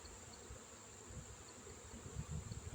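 A swarm of bees inside a propane tank access cover gives off a steady, faint insect buzz with a constant whine, close by and low, rising slightly toward the end.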